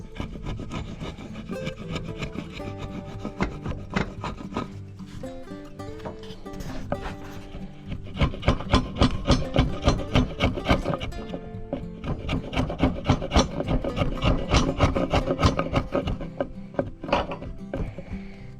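A chisel flattens and cleans up wood for a farmhouse table, giving close, loud, repeated scraping and rasping strokes in quick rhythmic bursts that grow denser in the second half.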